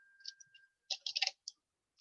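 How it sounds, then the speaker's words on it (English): Quiet computer keyboard typing and mouse clicking, with short clusters of soft, close taps separated by brief pauses. "I'm going to talk while I'm typing"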